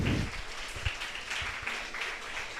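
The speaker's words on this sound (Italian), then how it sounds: "Un applauso ad Arianna Camporese." Soft, fairly distant audience applause welcoming a university neuroscience lecturer at a talk event, steady and unbroken throughout, with no speech over it.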